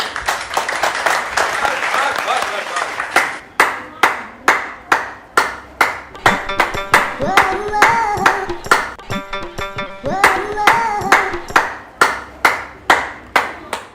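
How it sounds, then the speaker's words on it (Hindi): Rhythmic clapping for a doctor and police team, a group clapping in steady regular beats with some cheering voices, and a tonal ringing sound mixed in partway through. "हमारी पुलिस की टीम को तो ताली बजाइए सबके लिए"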